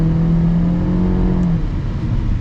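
A 2022 Honda Civic's 1.5-liter turbocharged engine accelerating, a loud continuous rising drone with a rising engine tone that fades after about a second and a half.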